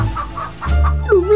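A cartoon chicken clucks loudly and close up in a brief burst of a few rising and falling calls, with a low hum underneath and no talk.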